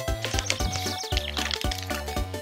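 Booger bath slime powder being poured into about 24 ounces of water gives close, repeated wet glugging and dripping with a steady rhythmic gurgle, fairly loud and without talk.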